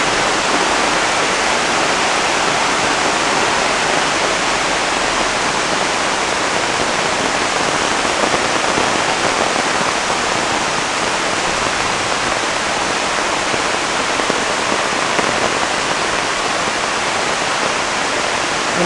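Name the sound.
rain and rushing water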